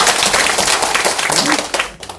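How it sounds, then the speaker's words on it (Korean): A church congregation claps hands together, producing a dense, loud burst of overlapping claps that lasts about two seconds and then tapers off. "박수 한 여러 번만 쳐봅시다"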